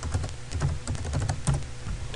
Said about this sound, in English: Type your default gateway into your web browser